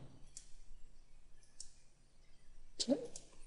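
Mouse clicks on a computer running AutoCAD, a few sharp faint taps spread across the stretch, with quiet room noise between them and a slightly louder cluster near the end.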